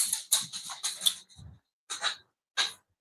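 Pet dogs whimpering and panting in short bursts close by, several yelps and breathy huffs with brief pauses between them, loud and near with no talk over them.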